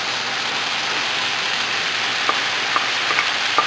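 Pork browning in a pan for ginisang sayote gives a steady, dense sizzle like light rain, constant and close, with a few faint clicks near the end and no talking.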